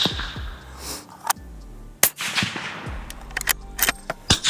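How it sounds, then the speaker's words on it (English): A suppressed 7 PRC rifle with a 22-inch barrel fires 175-grain bullets, giving several sharp, loud reports spaced about a second apart, each with a brief ringing tail, close by and with no talk. "I can't believe I'm shooting out of a 22-inch barrel of 175 grains this fast with this sound."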